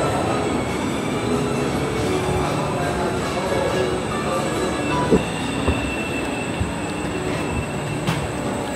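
An underground metro train in Shanghai runs through a tunnel with a steady loud rumble and rail roar, light wheel squeal and occasional clicks, heard from inside the car.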